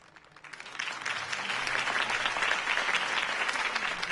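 Crowd applause following a mayoral campaign speech in the Batman Telltale Series video game, a dense, steady clapping that swells after the first half second and holds loud and continuous.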